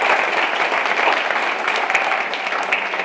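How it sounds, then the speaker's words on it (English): An audience at a school district board of trustees meeting applauds contest winners with dense, steady clapping that fills the room for several seconds. "Let's give the Patriots Pen winners a round of applause"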